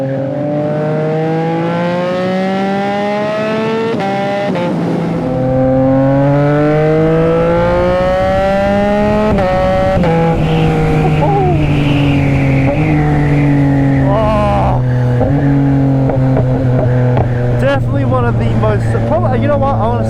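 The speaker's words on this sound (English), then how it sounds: "it's probably the most satisfying quick shifter I've used on any motorcycle I've ever ridden" A Yamaha MT-09 SP motorcycle engine revs loudly through the gears, the pitch climbing and then snapping down at each quick-shifter upshift, with steady wind noise and a voice talking over it.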